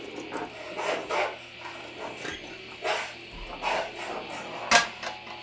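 A pinball machine plays a dog-bark sound effect among repeated short raspy bursts, several sharp yelps spaced irregularly over steady mechanical machine noise, fairly close and loud.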